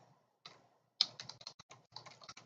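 Quick bursts of typing on a computer keyboard during an opening lecture for a class, with irregular close clicks after a short pause and one sharper tap.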